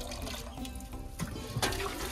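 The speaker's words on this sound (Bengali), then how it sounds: "তো এখন ডালটা এভাবে ছেঁকে নেবো" Soaked lentils (dal) being strained with water in a village kitchen, a close splashing and trickling pour with gurgling surges, no speech.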